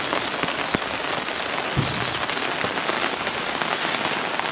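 Steady rain pattering on surfaces at a lion enclosure, a dense continuous hiss with a few sharper drips and taps, close and alone without voices.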